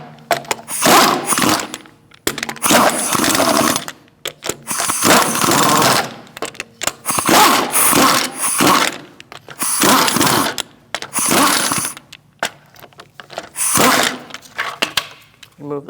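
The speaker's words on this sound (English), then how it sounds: "we're going to remove our hubcap" Impact wrench driving a 19mm socket to remove the hubcap on a Chevrolet Cruze rear wheel, heard as loud, close, repeated bursts of rapid rattling hammering separated by short pauses.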